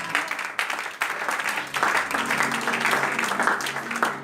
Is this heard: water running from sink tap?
no